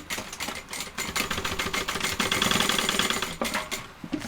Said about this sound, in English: I'm just going to baste along just here, just to keep this open while I top stitch both sides.